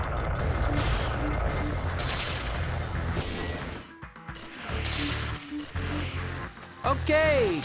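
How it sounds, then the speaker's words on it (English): Laser blasts and explosive impacts in the Spider-Man 2000 video game, a loud, continuous barrage of booming shots and crashes with a brief dip mid-way and a sweeping zap at the end. "quit shooting the lasers"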